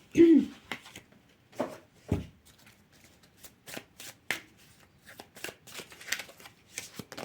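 Tarot cards shuffled and pushed across a table in a quiet room, a series of soft, irregular riffling and sliding bursts, fairly close.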